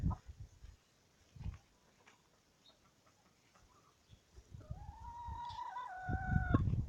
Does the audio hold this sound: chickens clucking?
yes